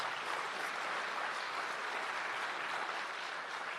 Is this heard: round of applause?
yes